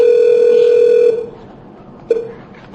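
An office telephone rings with a steady, loud electronic tone that cuts off abruptly partway through, followed by a brief single chirp of the ring before fading to quiet.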